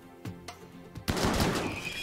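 Gunfire in the video game RimWorld: a few separate sharp shots, then a dense burst of rapid fire that carries on to the end, fairly close and with no talk over it.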